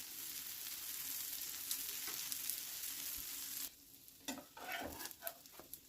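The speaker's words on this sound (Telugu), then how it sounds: "ఇప్పుడు ఈ ఆమ్లెట్ని టర్న్ చేసుకోవాలి. ఇలా టర్న్ చేసుకున్న తర్వాత అంచులమ్మట కొంచెం నెయ్యిని యాడ్ చేసుకోవాలి." An omelette frying in ghee in a pan gives a steady close sizzle that suddenly drops away, followed by a few scraping and tapping sounds as it is turned and moved about, with no talking.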